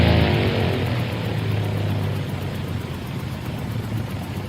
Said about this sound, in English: Holy smokes, the engine just cut out.